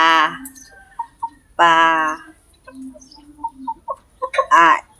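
Young roosters around four months old in a backyard poultry farm, giving a few loud crowing calls and softer clucks spread across the moment, close by.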